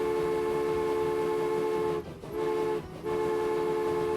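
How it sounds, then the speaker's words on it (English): A long train rolls steadily past in the game Transport Fever 2, a sustained rail drone with tonal hum and brief dips in loudness as carriages go by, with no talking. "Here comes the long train."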